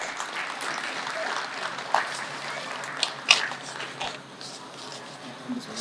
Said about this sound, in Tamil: உங்களது பலத்த கரகோஷங்களுடன்.